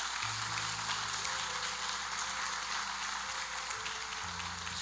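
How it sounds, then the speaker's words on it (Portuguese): A church congregation applauds steadily and evenly for several seconds under a low hum, with no voices over it. "Vamos aplaudir nosso Deus,"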